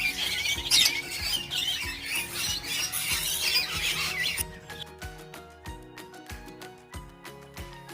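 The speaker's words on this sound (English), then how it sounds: "Parrot." Harsh, loud parrot squawks and squeals repeat through the first half, then give way to quieter rhythmic sounds, with no talking.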